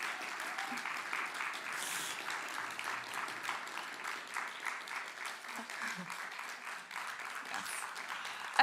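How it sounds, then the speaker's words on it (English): An audience at a TEDx event at Columbia College claps steadily and fairly close, a dense, even patter of many hands sustained throughout with a few faint voices mixed in. "Let's give them a round of applause."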